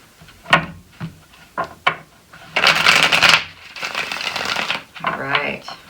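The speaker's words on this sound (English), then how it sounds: "I'm going to shuffle one more time" Tarot cards being shuffled up close: a few sharp taps, then long riffling bursts of card noise, with no talking.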